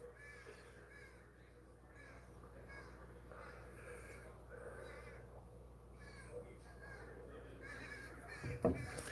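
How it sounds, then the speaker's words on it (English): Crows caw repeatedly outdoors, somewhat distant and faint, with harsh calls spaced across a quiet morning backdrop. "I don't know if you guys can hear these goofy crows out here this morning."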